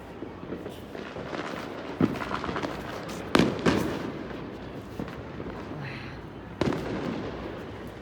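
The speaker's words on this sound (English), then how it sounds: "Wow, that's a lot of fireworks." New Year's fireworks boom and crackle continuously in a dense outdoor barrage, with loud sharp bursts standing out every few seconds over a constant rumbling wash of distant explosions.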